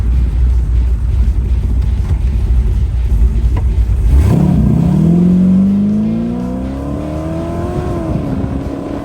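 A '32 Ford roadster hot rod rumbles at idle, then its engine roars as it launches and accelerates hard toward a quarter mile, the pitch climbing steadily through the revs, loud and close.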